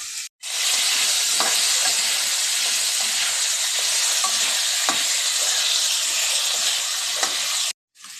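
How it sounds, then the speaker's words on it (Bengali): Potato fries in hot oil with cumin seeds in a home kitchen, a loud, continuous close-up sizzle with occasional faint stirring taps. "একটু জিরে ফোড়ন দিয়ে আলুটা বসিয়ে দিয়েছি। এবারে আলুটা একটু ভাজা ভাজা হলে"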